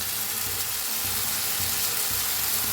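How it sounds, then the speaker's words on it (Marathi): Spice masala for sambar roasts in a pan, giving a steady, loud, close sizzle and crackle that runs unbroken with no voices. "काय मसाला छान असा भाजायला लागलाय"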